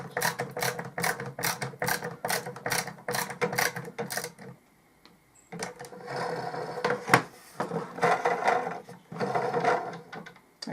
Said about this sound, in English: take our side units, pop them in, hold it, and then pop our screws back